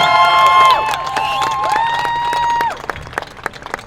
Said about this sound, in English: Please applaud him.